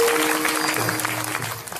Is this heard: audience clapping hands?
yes